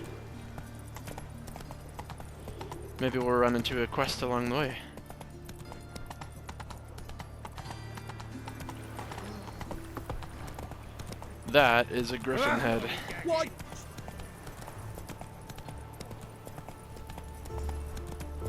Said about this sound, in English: let's grab our horse, because we're going to be on a bit of a ride here